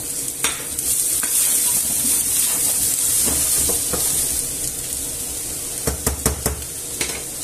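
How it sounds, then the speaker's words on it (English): Mushrooms, garlic and onion sizzle and fry in a pan with steady close hiss, while a utensil stirs and scrapes, with several sharp clinks of the pan near the end. "add the mushrooms, garlic and onion, and gently brown that off also"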